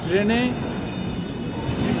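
A train stands at a crowded Benares station, with a steady rumble and a high metallic wheel squeal near the start, heard close under the station hubbub.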